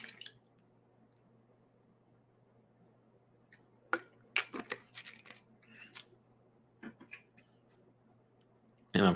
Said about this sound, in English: And I'm shuffling the cards.